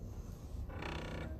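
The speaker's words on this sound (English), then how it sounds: "make the machine make funny noises and grab that bobbin thread" A sewing machine makes a short mechanical whirring creak as it picks up the bobbin thread, a brief burst up close under steady machine noise.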